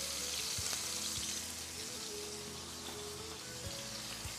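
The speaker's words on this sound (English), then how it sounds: "The onions are lightly caramelized, as well as the peppers and the tomatoes" Onions, peppers and tomatoes fry in a pan for a Turkish-style brunch, a loud, continuous sizzle with faint crackles and a few soft knocks, close up and alone.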